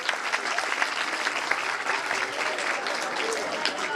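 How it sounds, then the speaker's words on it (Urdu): A school audience at an annual function claps steadily for several seconds, a dense and fairly loud wash of applause that stays even from start to finish. "بہت تالیاں اس کے لیے"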